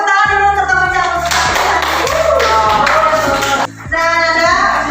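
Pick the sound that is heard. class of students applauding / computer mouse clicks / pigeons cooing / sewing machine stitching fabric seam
class of students applauding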